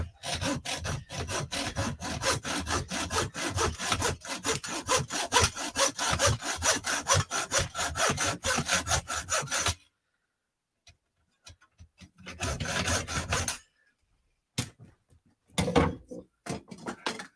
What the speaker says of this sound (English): I'm just going to hacksaw a groove into it